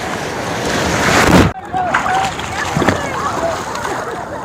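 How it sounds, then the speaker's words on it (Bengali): Big sea waves roll in at Digha beach, a loud, windy crashing surge that builds and breaks abruptly, followed by lighter wash and splashing while people talk over it. "গাইস এই একটা বড় ঢেউ আসছে, এটাই দেখো"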